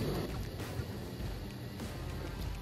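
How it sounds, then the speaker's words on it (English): An air blower on a small four-dollar blacksmith forge roars as a steady, broad rushing drone, close and constant, with no voices over it. "The forge is really rocking with that air blower on there."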